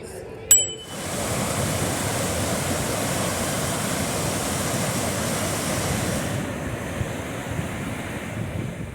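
The water flowing to Horseshoe Falls at Niagara roars steadily and loudly, a broad constant wash with wind buffeting the microphone, after a brief bell-like ring at the start.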